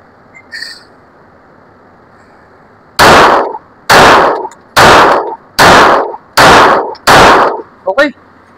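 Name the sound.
Armscor STK100 pistol firing reloaded ammunition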